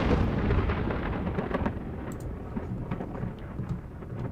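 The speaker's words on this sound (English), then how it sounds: "The audio for this thunder is insanely loud." Thunder rumbles loud and continuous through a heavy thunderstorm in the Assetto Corsa racing game, a deep sustained roll with a few sharper cracks and no voices.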